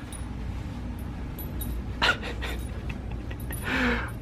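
A pet dog indoors on a couch gives soft whimpers and panting amid quiet room noise, with a couple of brief yips standing out.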